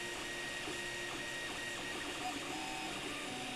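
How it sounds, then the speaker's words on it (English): A Creality Ender 3 3D printer lays down its first filament layers, giving a faint, continuous mechanical whir with soft stepper-motor tones and small pitch shifts as the print head moves. "then you can understand your printer and how it lays down filament, layer by layer, fusing it to each layer below"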